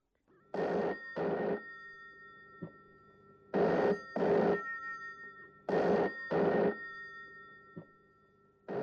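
Old-style telephone bell ringing in an office, sounding in paired bursts that repeat three times with short gaps between them and a faint tap after each pair. No voices.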